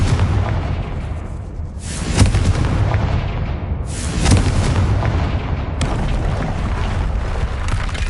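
Confringo spell blasts in the Hogwarts Legacy video game, three booming explosions about two seconds apart, each trailing a long rumbling roar, loud and continuous with no talk.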